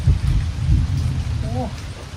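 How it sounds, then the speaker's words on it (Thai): Steady rain falls during the rainy season, a constant hiss and patter close by, with a voice speaking over it. "ฝนมาพร้อมแล้วครับพี่น้อง"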